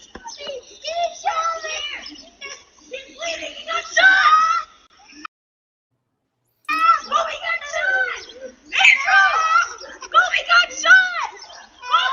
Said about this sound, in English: you could hear the kid screaming